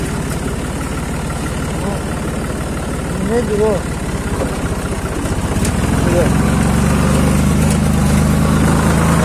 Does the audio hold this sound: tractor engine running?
yes